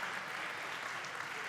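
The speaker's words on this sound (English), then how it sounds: "The crowd showing its appreciation here at the Y-Camp Center." A crowd applauds at a college basketball game at the Y-Camp Center, with a brief, steady clatter of clapping throughout.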